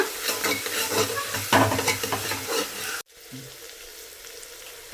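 Ginger-garlic paste being stirred into a sizzling pan of tomato bath, steady scraping and frying crackle for three seconds, then a quieter, softer sizzle as the stirring stops.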